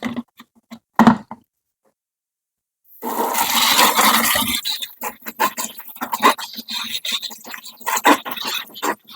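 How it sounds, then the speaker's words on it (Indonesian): Water splashing and running over the exposed roots of an Aglaonema plant tuber as they are cleaned, a few brief splashes, a pause, then a long loud wash with choppy bursts close by. "Nah, ini kita bersihkan, kita cuci."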